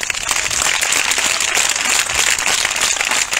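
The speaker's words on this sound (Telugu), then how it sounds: "ప్రసాదయ్య గారి సంఘస్థులు గట్టిగా చప్పట్లు కొడుతున్నారు." A church congregation at a gospel meeting in Kosuru claps loudly and steadily throughout, a dense, continuous wash of applause with no talking.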